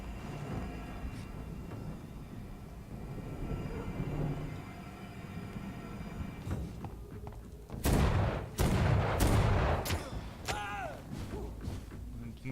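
Gunshots in the video game Vampyr: a murmuring background gives way to a cluster of sharp, loud shots and impacts in the second half, spaced irregularly, with a faint voice earlier.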